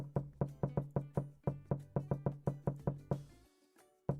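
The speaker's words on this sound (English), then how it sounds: "I hear a little bit of knocking going on." Sharp, evenly spaced knocks on a door ring out in a fast run of about a dozen, close and clear with no talk, then stop and give way to a brief faint rustle.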